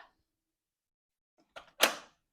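A heavy hotel room door swings shut with a solid thud after a brief rattle of the handle, in an otherwise quiet room at Hotel Indigo Grand Cayman.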